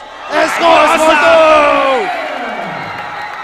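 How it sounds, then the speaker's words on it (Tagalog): A basketball crowd erupts in cheers and whoops, rising loud and then trailing off, with a commentator talking over the noise. "And the crowd goes wild."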